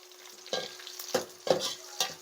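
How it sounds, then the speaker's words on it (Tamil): Sliced onions and dried red chillies fry in hot oil, giving a continuous sizzle broken by four distinct stirring scrapes at even intervals, close and fairly loud. "வெட்டி வச்சுருந்த பெரிய வெங்காயம் நாலு வரமிளகாயை இதில் சேர்த்துக்கிடுவோம்"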